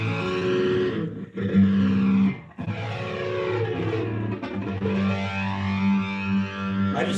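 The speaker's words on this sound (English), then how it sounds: "Is that too much flanger on it, or does it sound pretty good?" Electric guitar through a heavy flanger sends sweeping, whooshing comb-like swirls across sustained distorted notes, with a couple of brief gaps between phrases; no talking.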